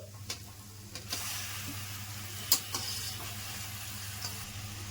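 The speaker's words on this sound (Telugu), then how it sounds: "వేసుకున్న తర్వాత మనం బాగా కలుపుకోవాలి ఇలాగే బాగా కలుపుకుంటా గోంగూర మనం ఉడికించుకోవాలి" Gongura leaves frying and being stirred in a pan, a soft steady sizzle with faint scraping stirs and a few small clicks, nothing else over it.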